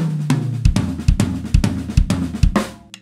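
Drum fill on a kit with exaggerated dynamics: sharp, very loud accented hits about every half second separated by barely audible soft ghost notes, played close and alone.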